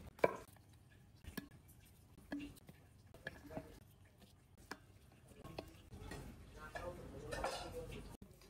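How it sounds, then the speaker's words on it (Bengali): Knife cutting a sponge gourd (dhundul) into round slices in a home kitchen, with a run of sharp, evenly spaced chops against a board, close and fairly quiet, plus faint utensil clatter between strokes. "এভাবে গোল গোল করে সবগুলো দুন্দুল আমি কেটে নিচ্ছি"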